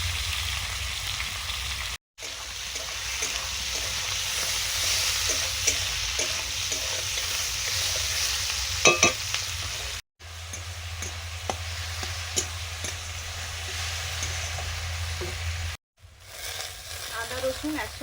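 Cumin, dried red chilli and chopped onion fry in a pan, with a continuous close sizzle and crackle, occasional stirring clicks, and several brief drops to silence between sections.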